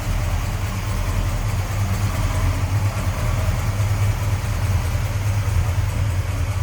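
A 1967 Dodge Coronet R/T with its 440 V8 idles smoothly and steadily, a loud, even low rumble with no revving and no voices.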